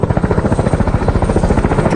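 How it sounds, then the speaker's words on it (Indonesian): A helicopter with its rotor thumping in a fast, even rhythm under a loud engine drone, close and steady throughout. "Joker dan Raptorman pun berangkat menggunakan helikopter"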